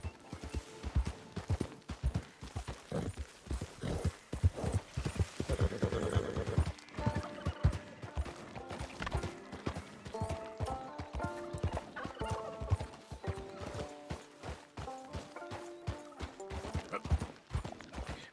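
Horse hooves clip-clop in Red Dead Redemption 2, a video game, in a steady, fast rhythm, fairly close, with a tonal musical backdrop and no talking.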